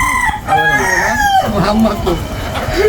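Desi chickens and a rooster on a vertical poultry farm: a rooster crows loudly and close by, and hens cluck around it.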